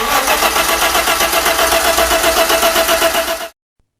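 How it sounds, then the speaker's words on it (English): A car engine cranks and starts as a story sound effect, a loud close mid-pitched rumble that holds steady for about three and a half seconds, then cuts off abruptly into silence. "Jake's hands shook as he tried to start the engine."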